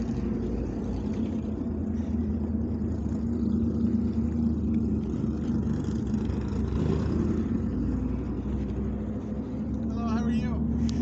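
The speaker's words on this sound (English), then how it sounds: "I hear something loud. I gotta go look." A race car at an outdoor car show gives off a steady, rumbling engine drone that swells slightly as it revs, heard throughout beneath people talking nearby.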